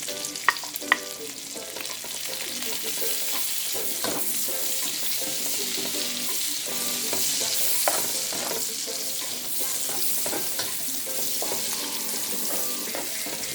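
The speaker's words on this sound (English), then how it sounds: "I'm going to add some garlic in the bacon" Garlic and bacon fry in a pan for a Jamaican-style breakfast, giving a steady close sizzle and crackle throughout with stirring scrapes mixed in, and no talking.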